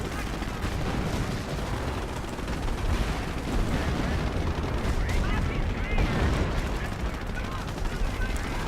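Heavy gunfire fills a World War II battle in the strategy game Company of Heroes: dense machine-gun bursts and booming shots overlap continuously, loud and chaotic, with no pause across the scene.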